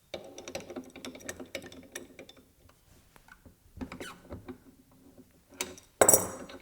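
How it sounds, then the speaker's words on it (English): Metal wrench clinking and scraping against the shaft and cracked drive wheel of a Tormek T2000 sharpener, with a scattered run of small clicks and taps ending in a sharper, louder clatter, close and quiet. "let me get a wrench and I'll take that off and put the aluminum drive wheel on it"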